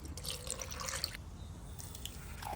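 Water trickles and splashes into a container of coconut for making coconut milk, in short bursts with pauses between, faint and close, over a low background rumble.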